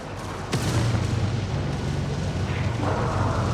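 A sharp blast hits a ship in a Homeworld 3 space battle, followed by a sustained roaring rumble of explosions and weapon fire that stays loud throughout.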